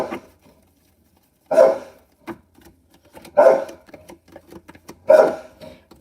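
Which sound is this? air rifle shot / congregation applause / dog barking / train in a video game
dog barking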